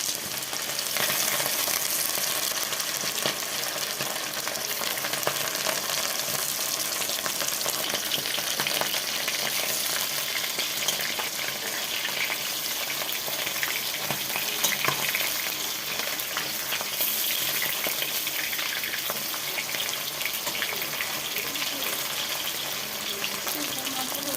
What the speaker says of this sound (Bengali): তেলটা গরম হয়ে গেছে, মাছগুলো দিয়ে দিচ্ছি